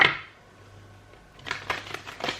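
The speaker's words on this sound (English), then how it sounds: "I'm just going to do one more shuffle" A deck of tarot cards is shuffled by hand, a brief riffle at the start, then a pause and a few soft slaps and flutters of cards close by, with no talk.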